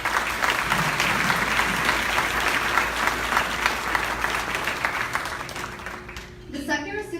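At a scholarship gala, an audience gives a sustained round of applause for a Teacher of the Year honoree, a steady wash of many hands that fades near the end as a voice begins.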